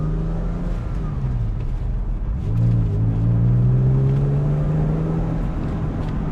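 Porsche convertible with sports exhaust on a test drive with the roof down, its engine rumbling steadily and rising in pitch as it accelerates, loud and close throughout with no talk.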